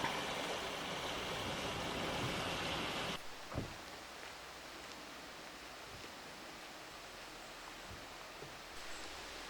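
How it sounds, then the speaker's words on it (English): A river on the Isle of Skye rushes as steady broadband water noise, louder at first and then quieter and more distant, with a few faint knocks over it and no voices. "And the rushing river. The river's all rush here."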